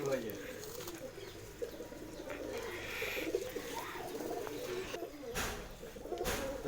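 Rampuri pigeons coo in a close, continuous low warble with occasional chirps, people talking over them now and then.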